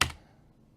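A computer keyboard shortcut press, a single sharp close key clack that decays quickly into quiet.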